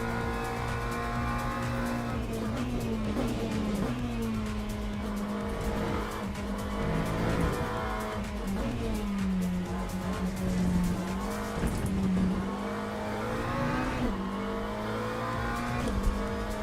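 Racing sim race car with a droning engine note, rising and falling as it rotates through corners with a little controllable tire slip; steady and loud, with no talking.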